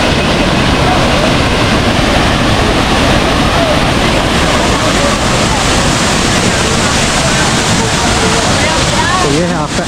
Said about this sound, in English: very beautiful waterfall.